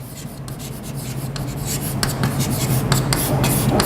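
Marker or chalk strokes on a board during a set theory lecture, steady scratchy scribbling that runs continuously and grows slightly louder, close and fairly clear with no talk over it.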